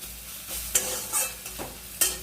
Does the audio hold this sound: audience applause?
no